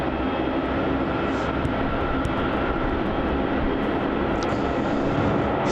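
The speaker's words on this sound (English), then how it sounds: "And we've got an arrival on runway 16 as well. Another Jetstar A320 JQ702 arriving in from Hobart." A Jetstar Airbus A320 arriving at Melbourne Airport on runway 16, its engine roar a steady, loud broadband rumble that holds constant throughout without any talk.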